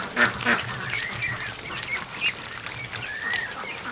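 A Chinese goose gives several short, honking calls amid other waterfowl noise outdoors, fairly close and at a moderate level, with no talking.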